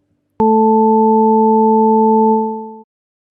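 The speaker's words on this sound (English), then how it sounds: "I also have another sound file that contains all 3 sine waves played together simultaneously" Three pure sine tones sound together as one steady, loud, unwavering chord, starting abruptly and holding for over two seconds before cutting off, with nothing else heard.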